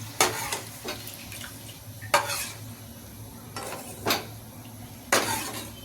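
Pabda fish curry gravy simmering in a pan on the stove, with a few distinct scrapes and clinks of a spoon stirring against the pot over a steady soft bubbling hiss.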